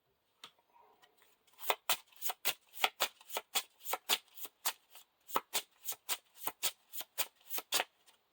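A deck of playing cards riffled during a card game, a quick run of about twenty crisp, evenly spaced snaps, close and clear in a quiet room.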